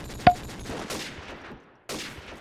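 Gunfire in Call of Duty 4: a single sharp shot near the start, followed by a rumbling spray of game combat noise that fades out and then picks up again at the end.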